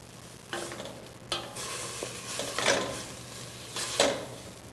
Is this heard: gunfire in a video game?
no